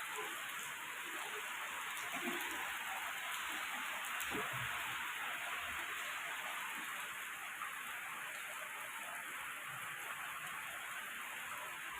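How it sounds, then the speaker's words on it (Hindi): Heavy rain pours steadily over a Delhi rooftop, a dense, even hiss with no break across the whole stretch, and no one speaks. "आज सुबह से बारिश हो रही है।"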